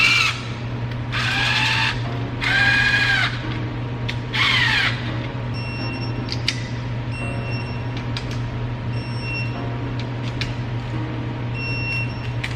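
Bolts run in on a Coyote engine install with a power tool, three loud whirring bursts of a couple of seconds each up close, followed by fainter clicks, taps and short tool noises over a constant low hum.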